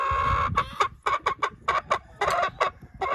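A Naked Neck laying hen clucks in a run of short, sharp, evenly spaced calls, close and loud, each burst separated by brief pauses, with no voices over it.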